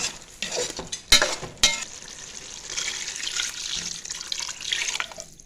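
Water poured into a cooking pot of kurma on the stove, a splashing, hissing rush with two sharp bursts early on, then a steadier bubbling pour that cuts off near the end.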